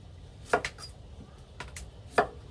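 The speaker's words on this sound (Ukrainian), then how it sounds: "Моркву ми нарізаємо тоненькими полосочками і розділяючи її на двоє." A knife chops carrots into thin strips on a board for plov, a few sharp, close, sparse cuts separated by quiet pauses.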